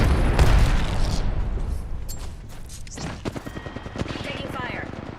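Heavy video game gunfire: a dense barrage of rapid automatic shots and booms that thins into a quicker run of lighter, crackling shots, loud and close throughout.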